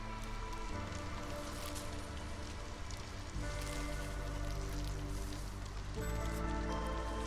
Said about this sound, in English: We only have so much more drizzle to go.